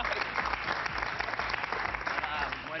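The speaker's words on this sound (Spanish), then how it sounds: "Un aplauso para Macaulay Culkin, por favor" Studio audience at a TV show giving a guest a sustained round of dense, even clapping, loud and close, with no talking over it.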